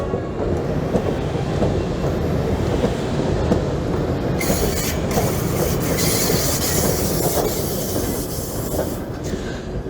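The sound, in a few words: ChS7 Czechoslovak-built electric locomotive arriving pulling passenger coaches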